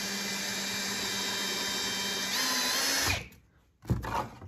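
Power drill whines steadily while pre-drilling pilot holes into wood, its pitch shifting partway through, then it stops abruptly and a short clatter follows.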